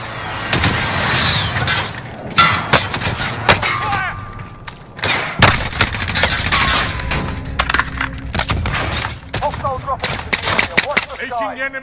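Call of Duty Modern Warfare combat erupts with rapid bursts of gunfire, sharp close shots and automatic volleys mixed with thuds and impacts, loud and dense throughout, with brief radio chatter and shouted voices in the mix.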